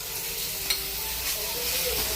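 Grated raw papaya being stirred in ghee in a wok, a steady, close sizzle with a scrape of the spoon near the start, continuing evenly with no voices.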